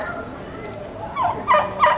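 A young turkey gobbles nearby, two or three short, warbling bursts rising toward the end over a low background hiss.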